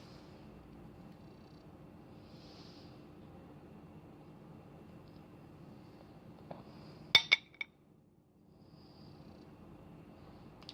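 Small OPI mini nail polish bottles clink together as they are pushed aside, a quick cluster of three or four sharp glassy taps near the microphone, set in an otherwise quiet room.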